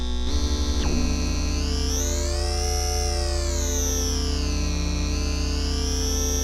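Argon8M synthesizer playing a sustained tone with wind sync modulation, a loud steady buzzing pitch whose bright overtones sweep slowly up and down, with a short pulsing burst near the start and no talk.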